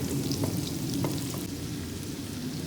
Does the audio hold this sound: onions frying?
yes